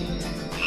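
A frog croaks as a comedy sound effect, one short, steady croak that stands alone without any voices.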